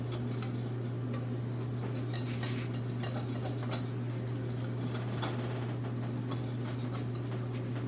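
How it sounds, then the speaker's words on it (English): A whisk clinks briskly against a bowl while mixing salt into banana bread batter, a rapid, fairly quiet ticking of metal on the dish over a constant low hum. "Just add salt for a little bit, and then whisk it together."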